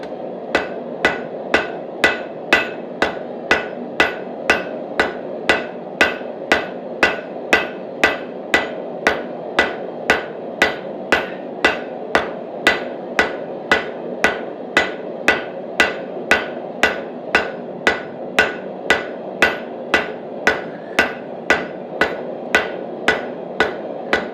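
Hammer forging metal to taper a Rubik's twist wand to a point, a long run of evenly spaced ringing hammer blows on the anvil, loud and close, steady rhythm of roughly two strikes a second, no talking.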